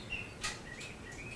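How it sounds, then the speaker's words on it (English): Faint birdsong from mountain and foothill country in northern Arizona and southern Colorado, with a few thin chirps and short whistled notes over soft background hiss. "All these birds that we're listening to are"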